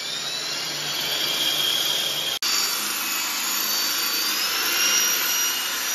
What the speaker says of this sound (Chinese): 全瓷砖放点水，准备打孔了